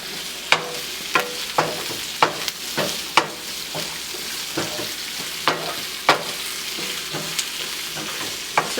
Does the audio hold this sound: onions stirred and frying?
yes